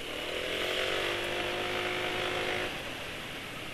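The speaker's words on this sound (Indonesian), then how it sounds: "Suara mesin lebih kasar dari suara kemarin." A two-stroke motorcycle engine idles steadily nearby with a rough, buzzing drone, running on thinned-out Evalube 2T oil after a change; the tone stays constant and fairly loud, easing slightly near the end, with no talk.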